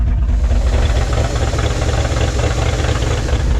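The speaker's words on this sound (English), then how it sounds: "Bobo, I'll hop in, crank it, and see what happens" An old Chevy engine running after being cranked in a garage, a loud, steady rumbling idle with a rough, knocking texture throughout, close to the microphone and with no talking.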